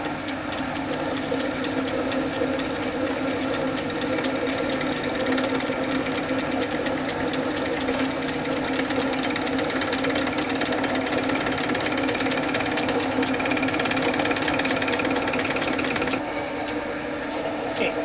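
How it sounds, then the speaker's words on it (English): A bigger drill bit bores through metal on a Lorch lathe, a steady loud grinding whir that runs unbroken for most of the stretch before cutting off near the end. "I'm going to put a bit bigger drill through until we get it"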